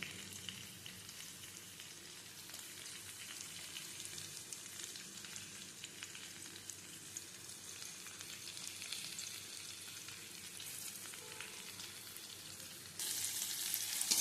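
Spices with turmeric, chilli powder, salt and sugar fry in oil with pumpkin for a chatpata, giving a steady, dense sizzle throughout that grows louder and brighter near the end.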